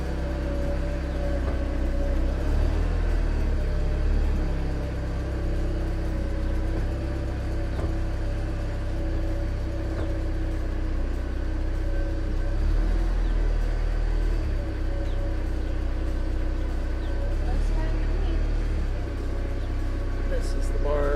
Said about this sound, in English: Now we're trying to pull it out.